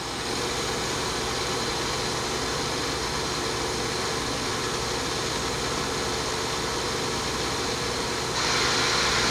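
Live tools spinning at about 1,000 RPM on a new 1997 Citizen L-25 Swiss-type CNC screw machine, a steady close whir and hum over broadband machine noise, with a slight rise in pitch near the end.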